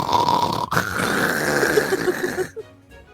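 A person imitates loud, exaggerated snoring at a tabletop Dungeons & Dragons session. It comes as a close, raspy, drawn-out vocal rumble lasting about two and a half seconds, then drops off sharply to quiet.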